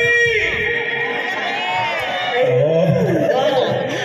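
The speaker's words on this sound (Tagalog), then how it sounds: "Buhay na buhay ang crowd." A lively crowd at a concert in Pasig City cheers, whoops and chatters in a steady, dense roar that fills the whole stretch without pause.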